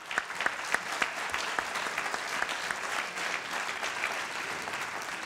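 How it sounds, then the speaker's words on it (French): A studio audience claps steadily for a French sailing guest on a Vendée talk show, sustained applause that stays even throughout with a few sharper claps on top. "Bravo, on peut l'applaudir vraiment."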